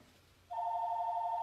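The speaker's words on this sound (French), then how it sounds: "Ah, le téléphone." A telephone starts ringing partway through, a steady electronic ring that is clear and fairly loud, close by, with no talk over it.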